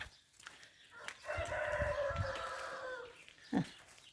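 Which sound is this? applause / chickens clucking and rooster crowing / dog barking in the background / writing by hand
chickens clucking and rooster crowing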